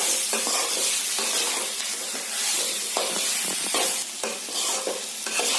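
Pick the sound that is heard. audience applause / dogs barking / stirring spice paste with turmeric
stirring spice paste with turmeric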